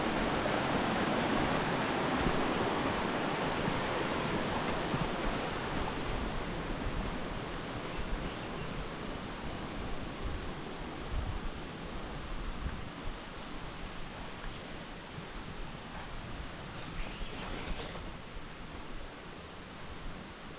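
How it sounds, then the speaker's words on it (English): A small brook flows steadily beside a hiking trail, a constant broadband wash of running water close by that holds even throughout with no voices. "Nice little brook."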